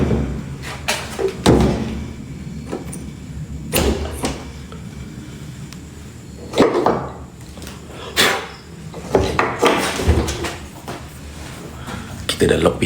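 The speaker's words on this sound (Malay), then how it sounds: "Kita dah lock pintu" A door is shut and locked, with several loud knocks, slams and metallic clacks spread across the clip and someone speaking between them.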